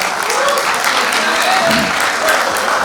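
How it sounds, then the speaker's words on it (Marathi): Loud, sustained applause from a crowd at a 1999-batch school reunion silver jubilee celebration, steady clapping filling the whole stretch with no break. "एकदा जोरदार टाळ्या होऊन जातो रितेश परबला."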